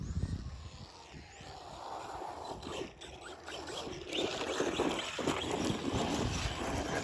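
An Arrma Vorteks BLX 4x4 RC car tearing through dirt, its motor whining continuously with gritty crunching and spraying noise, rising louder in the second half, close to the microphone with some wind noise.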